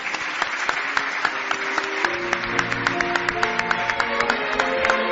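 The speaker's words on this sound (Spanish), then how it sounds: "Un aplauso, por favor, para Joaquín de Diego." Studio audience at a Spanish radio-style mystery talk show gives a steady round of applause for an arriving guest, dense clapping throughout with no voices over it.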